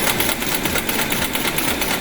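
Small thermoelectric-powered piston engine running steadily and gradually picking up speed, a dense rapid mechanical whir with fast regular ticking throughout, close and moderately loud, no voices.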